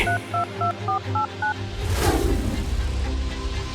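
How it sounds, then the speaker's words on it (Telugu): A rapid run of touch-tone beeps as a number is keyed in, about eight short tones, then a rustling thud and steady background hiss. "వెంటనే తన ఫోన్లో ఏదో నంబర్ డైల్ చేసి"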